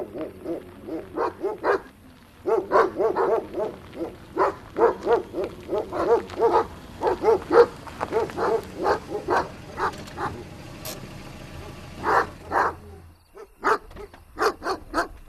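A dog barking repeatedly in irregular bursts of short yips and woofs, fairly close, with a brief pause before more barks.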